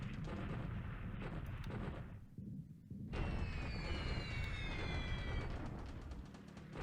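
Bombing in the strategy game War in the Pacific sounds as a dense, sustained rumble of explosions. A brief dip is followed by a renewed burst topped with thin whistling, sweeping tones.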